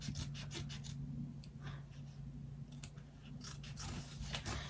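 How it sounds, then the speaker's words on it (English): Small applique scissors snip through fabric in quick, crisp cuts, trimming excess near stitches, several in a row with short pauses, close by over a steady low hum. "I'm going to go ahead and take my scissors, my applique scissors. I'm just going to cut this excess off."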